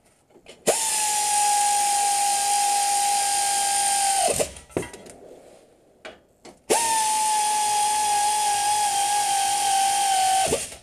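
A pneumatic air ratchet works on the hub bearing of a 2007 third-generation Dodge 2500 pickup, letting out two long, loud, steady whirring runs close by, separated by a few seconds of quiet clicks and shuffling.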